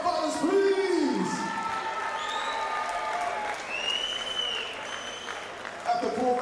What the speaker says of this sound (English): can I have a big round of applause for my fathers, please?